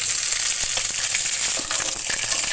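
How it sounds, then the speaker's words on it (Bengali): Cardamom, cinnamon and bay leaves sizzle in hot oil in a pan, a steady crackling hiss with small pops, close and fairly loud, with no talking. "তেল গরম হয়ে গেছে এর মধ্যে আমি এখন এলাচ দারচুনি আর তেজপাতা দিয়ে দিব"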